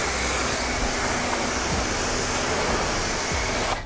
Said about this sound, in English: Now we're gonna rinse it off.